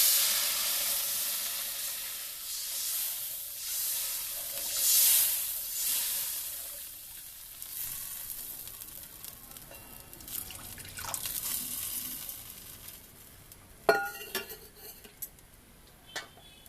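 Gravy liquid is poured onto fried red spice masala in a pan for a small fish curry, bursting into a loud hissing sizzle that slowly fades into softer bubbling, with a few utensil clinks and scrapes near the end.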